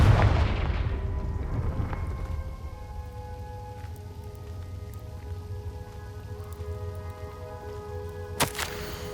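A Confringo fire spell blasting in the Hogwarts Legacy video game, a loud booming burst at the start that fades into a long rumbling, crackling tail, then a sharp crack near the end.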